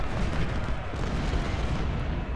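Artillery fire in the Civil War strategy game Ultimate General: Civil War forms a dense, continuous rumble of booming cannon, moderately loud and steady for a couple of seconds, with no talk.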